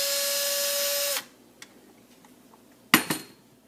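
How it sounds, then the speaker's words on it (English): A power drill fitted with a carbide hole saw whines loudly and steadily for about a second, then cuts out. A few sharp clanks and rattles follow in the quiet. "You just put your carbide saw into your power drill, tighten it up, put it over your hole"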